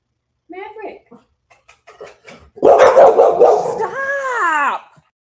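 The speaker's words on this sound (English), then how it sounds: "These dogs don't shut up." Several neighborhood dogs bark and yip loudly in a busy, overlapping burst, with a drawn-out whining howl trailing at the end after a few quieter yaps.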